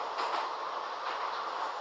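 A themed Moscow metro train, the multicoloured Raznotsvetka, runs through a tunnel with a steady broad rumbling roar and faint rhythmic wheel clatter, heard from inside the car, with no talking.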